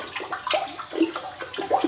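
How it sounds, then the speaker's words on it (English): A spoon stirs honey into liquid for a cyser, making sloshing, swirling water sounds in gentle repeated strokes, close and moderately loud. "It's good to mix it as well, or like use a spoon to"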